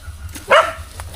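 A single dog gives one short, sharp bark at close range, standing out against faint low background noise.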